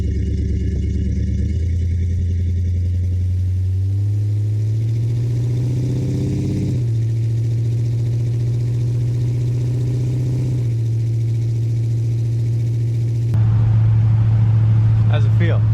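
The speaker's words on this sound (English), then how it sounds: "once the weather broke, we had to take it out for a test drive" A 1970 Dodge Charger with a Flowmaster Super 40 exhaust rumbles through a test drive, its deep engine note rising and settling in steps as revs change, loud and close with voices faintly present.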